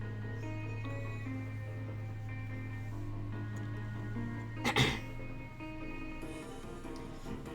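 A single sharp cough or sneeze bursts close into the microphone midway, loud against a quiet backdrop of soft game music.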